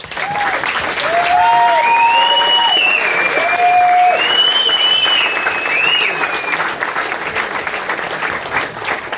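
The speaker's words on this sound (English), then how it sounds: "So, round of applause for the players." Audience applause for football players at a club presentation evening, a steady dense roar of clapping from a crowd lasting the whole stretch, with whistle-like cheers riding on top.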